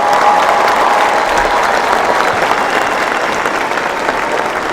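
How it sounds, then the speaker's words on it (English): A commencement ceremony audience claps in a full, even round of applause, steady and loud for the whole stretch with no speech over it. "Let's do one last round of applause."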